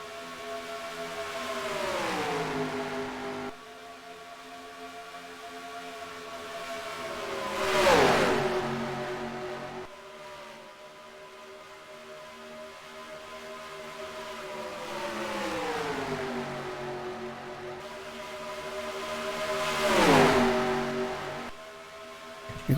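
Race car engines in the NR2003 racing sim drone steadily, rising and falling in pitch as cars sweep past twice in a doppler whoosh, loud and close with no talk.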